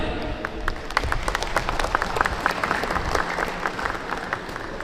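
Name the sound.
audience applause at an inauguration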